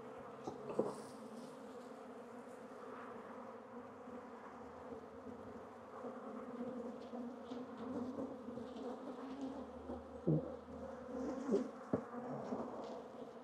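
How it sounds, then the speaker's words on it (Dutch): Honeybees buzzing steadily from an open hive box at an apiary stand, a soft close hum with occasional individual bees droning louder past, plus a few faint handling clicks. "Mooie bak bijen."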